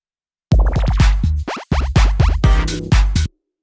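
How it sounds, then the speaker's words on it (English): Loud Pac-Man ghost sound effect: rapid rising and falling electronic pitch sweeps chained together for about three seconds, with no talking. "Little ghost effect."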